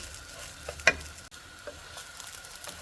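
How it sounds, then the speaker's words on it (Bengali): Steady close sizzling of egg biryani masala frying in a pan, with a sharp spatula scrape and clack about a second in. "এখন এটাকে ভালো করে একটু ভাজবো"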